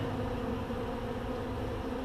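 Honeybees fill an open hive during an inspection with a dense, continuous buzzing hum, close and even, with no voices over it.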